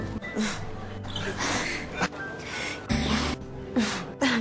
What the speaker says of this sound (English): This movie has more heavy breathing than a shonen anime.